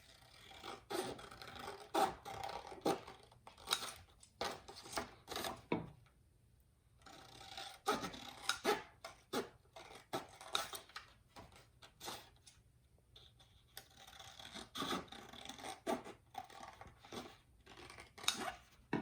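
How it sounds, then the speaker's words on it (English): Scissors snip paper corners for a homemade pinwheel, a quiet, close series of short crisp cuts and rustles in irregular bursts with brief pauses, and no talking. "And we're cutting until we have about an inch left."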